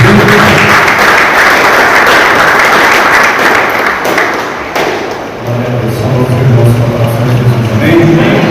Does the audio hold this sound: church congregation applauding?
yes